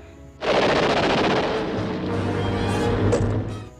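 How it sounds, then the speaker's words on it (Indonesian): Sustained rapid machine-gun fire from a World War II combat scene with German soldiers, loud and continuous bursts lasting a few seconds with heavy low rumble. "Franco tak menyadari bahwa masih ada seorang pasukan Jerman yang bersembunyi dan menembaknya."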